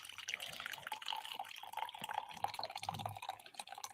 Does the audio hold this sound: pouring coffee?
yes